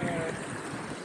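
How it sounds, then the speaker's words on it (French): Small mountain waterfalls and flowing alpine water give a steady, soft rushing wash in the distance, continuous and unbroken. "Là-bas il y a des petites cascades là."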